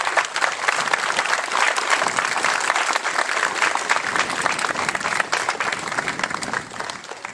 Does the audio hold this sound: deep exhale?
no